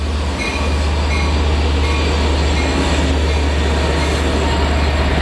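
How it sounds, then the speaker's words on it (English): A Long Island Rail Road Port Jefferson train pulls into a station with a loud, steady rumble and a low engine drone, and faint wheel squeal above it. "Port Jefferson train coming in."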